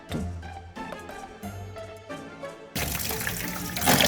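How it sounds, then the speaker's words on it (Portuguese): Running tap water rinses soapy crocheted amigurumi toys in a sink, starting as intermittent splashes and gurgles, then becoming a louder steady gush near the end, with no talk. "E agora eu vou enxaguar todos os amigurumis só com a água, tirar todo o sabão deles."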